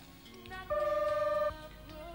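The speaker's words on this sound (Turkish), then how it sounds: "telefon" A telephone rings once in a Turkish sitcom home, a steady two-tone electronic ring lasting under a second, moderately loud over quiet room tone.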